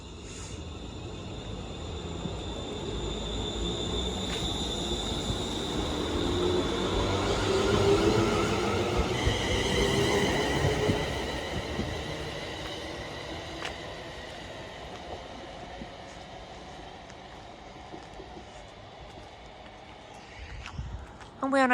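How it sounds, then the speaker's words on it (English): A ScotRail train departs Glasgow Central for Wemyss Bay with a long, rising and falling electric traction whine and rumble, swelling as it draws away, while a person talks quietly nearby. "departing out now is the 1156 Scotrail service from Glasgow Central to Weems Bay"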